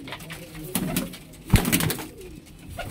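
Pigeons coo in soft, throaty bursts close by, with a louder burst at mid-clip among rustling and background chatter.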